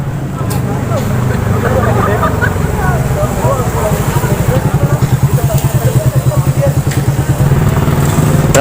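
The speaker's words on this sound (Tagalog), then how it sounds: "Titingnan natin yung dadaan yung mga motor" Motorcycle engines rumble and pass close by at the entrance of Kaybiang Tunnel, with a steady low drone and rising revs, under a noisy echoing background.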